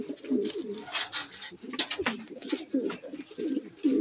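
A pigeon coos softly and repeatedly in a low, throaty rhythm, with faint chirps and light background noise around it.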